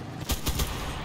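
Quick burst of about three gunshots from a World War II shooter game, sharp and fairly close, over steady background game noise.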